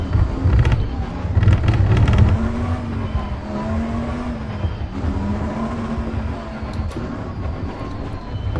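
A race car in the Assetto Corsa Competizione sim game, driven with the brakes applied, its engine a loud low droning rumble with shifting pitch that eases slightly over time, steady and without talk.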